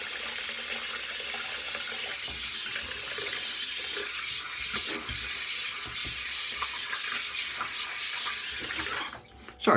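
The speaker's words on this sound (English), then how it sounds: "Sorry for the sound of the water" Steady rushing tap water pours at a sink during a shave for several seconds, close and fairly loud, cutting off abruptly at the end.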